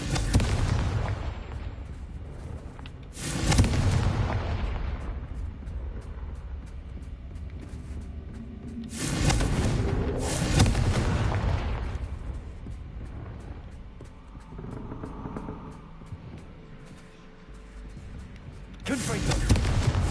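The Confringo fire spell in Hogwarts Legacy goes off as a series of heavy, close booming blasts spaced several seconds apart, each trailing into rumbling debris.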